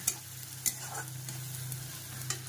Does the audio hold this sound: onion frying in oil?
yes